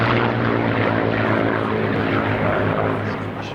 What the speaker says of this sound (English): Here we see them starting their display with a couple of formation passes by their Spitfire and Mustang.